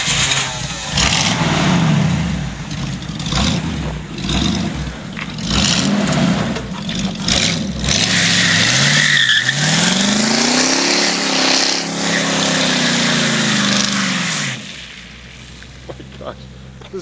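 A 1973 Buick Apollo without a posi rear end does a burnout, its engine revving loudly in rising and falling bursts for about fifteen seconds before easing to a lower idle, with tire scrape and nearby voices underneath.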